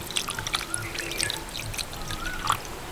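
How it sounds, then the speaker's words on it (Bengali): Water sprinkled over fresh chhena cheese curds in a bowl, giving faint light trickling and pattering drips with soft splashes over a few seconds. "ওর থেকে একটু জল ছড়িয়ে দিচ্ছি"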